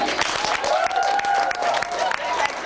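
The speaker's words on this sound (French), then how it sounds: "applaudissez pour Anthony" An audience applauds a costumed participant at a youth event, steady clapping running throughout with a faint tonal sound drifting above it.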